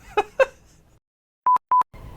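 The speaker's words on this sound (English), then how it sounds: "She was talking on the phone earlier, and it was off the hook." A telephone left off the hook sounds two short, loud electronic beeps with a gap between them, following some faint muffled sounds and a moment of silence.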